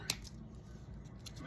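Scissors trim leaves off a flower stem while making a boutonniere, giving one crisp, quiet snip at the start and a fainter second snip near the end, with little else around them.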